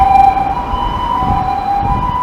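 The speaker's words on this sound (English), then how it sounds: "There's another ambulance." Ambulance siren in a Japanese street, a steady wailing tone ringing out over low traffic rumble at moderate distance, sustained throughout with no talking.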